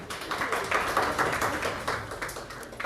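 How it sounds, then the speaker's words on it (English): Audience applause rises in a steady, moderately close wash of many hands clapping at a chess tournament stage, continuing evenly without voices. "Please give her a round of applause."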